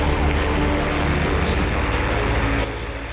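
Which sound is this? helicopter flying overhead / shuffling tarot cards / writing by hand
helicopter flying overhead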